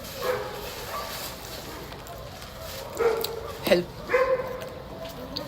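Dogs in an Egyptian neighborhood bark and yip in a few short bursts toward the end, fairly near, under someone talking over background noise.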